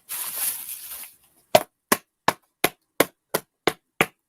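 Eight sharp metallic hammering strikes with the Condor Gladius neck knife, evenly spaced about a third of a second apart and close up, following a brief burst of rustling noise.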